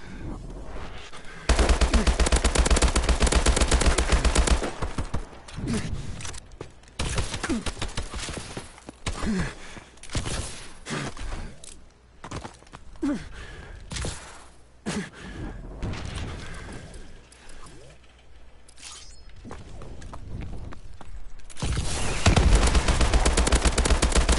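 Bursts of gunfire in the Exo survival mode of a first-person shooter video game, with loud volleys at the start and end and scattered sharp shots between, no talking.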